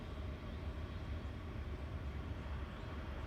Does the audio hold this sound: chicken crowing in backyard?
no